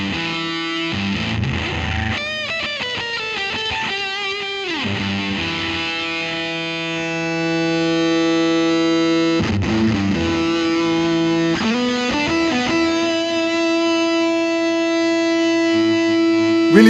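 Electric guitar through a fuzz pedal, a thick distorted tone with a quick run of notes early on followed by long sustained buzzing chords that hold for several seconds, loud and close with no voice.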